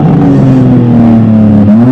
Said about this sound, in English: Now give it some revs.